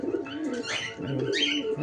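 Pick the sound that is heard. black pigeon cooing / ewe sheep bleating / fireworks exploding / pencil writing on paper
black pigeon cooing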